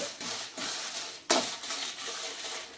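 Curry leaves and coriander seeds dry roast in a pan without oil, soft scraping stirs and light rustling with one sharper clatter midway, close and quiet.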